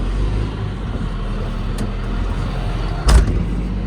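Steady low rumble of a Claas Xerion tractor moving forward, heard from inside the cab, loud and even with one brief thud near the end.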